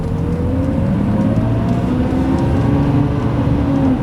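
Engine of a 2003 Lamborghini Murcielago sitting in first gear, heard from inside the cabin as a steady low drone with a faint whirring hum, even and unchanging throughout, no voices.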